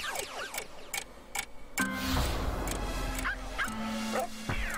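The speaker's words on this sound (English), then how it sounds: "Hey, down boy! Bad laser puppy!" A cartoon laser puppy barks in a run of short, sharp yips and bow-wows, loud and busy amid ringing electronic tones and other cartoon sound effects.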